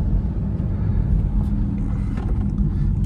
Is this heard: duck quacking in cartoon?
no